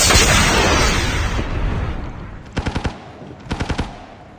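Gunfire in a video game, two tight bursts of four rapid automatic shots each, loud and close after a stretch of dense noisy game ambience.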